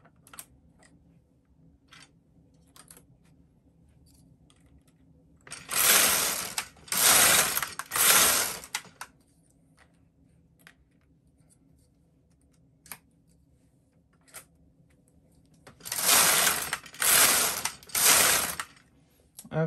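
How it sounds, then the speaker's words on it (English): Silver Reed knitting machine carriage knitting a tuck stitch, two bursts of three quick ratcheting mechanical passes, clattering and loud, separated by a quiet pause. "we're making a tuck stitch here. Make the next selection and just keep right on knitting."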